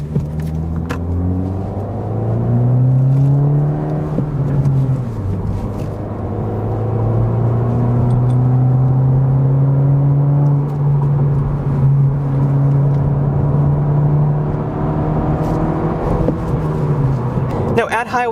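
A Honda Civic Si sports sedan with about 200 horsepower being driven, its engine droning steadily with pitch rising and falling through gear changes, close and loud inside the cabin, with a faint voice at times.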